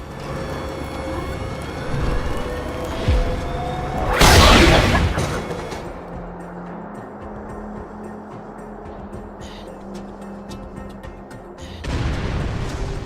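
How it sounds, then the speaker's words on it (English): A cannon fires in Borderlands: The Handsome Collection, one loud booming blast with a long rumbling tail, then a second burst near the end, over a steady hum of game ambience. "Please fire the cannon again."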